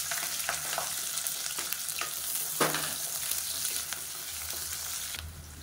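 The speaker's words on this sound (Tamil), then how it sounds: "இப்போ வெங்காயம் லேசாக வதங்கிடுச்சு." Sliced onions frying in oil for mushroom biryani give a steady, close sizzle throughout, with occasional stirring clicks and a brief louder crackle near the middle.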